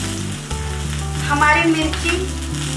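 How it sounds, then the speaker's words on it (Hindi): Green chillies fry in hot oil in a pan on a gas flame, a loud, close sizzle with bubbling crackle and a brief swell as they are stirred, over a low steady hum. "गैस को बड़ा कर लेते हैं और तेल में मिर्ची को अच्छे से फ्राई कर लेते हैं।"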